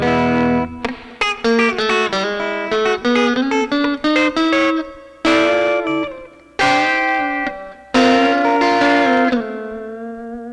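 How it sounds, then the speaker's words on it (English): Electric guitar on the middle pickup of a Yamaha Pacifica 112J, with a hollow, honky, nasal tone, plays a fast run of picked notes and ringing chords, clean and close, with a touch of reverb. "your middle position, which is the middle pickup. Kind of more of like a honking nasally tone."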